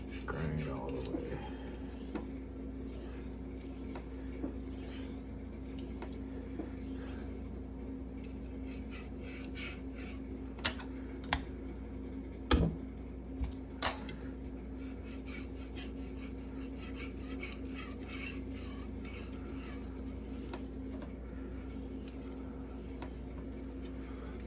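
A knife being sharpened on a Venev resin-bonded diamond finishing stone, steady close rasping strokes scraping back and forth in a continuous rhythm, with a few sharper ticks partway through.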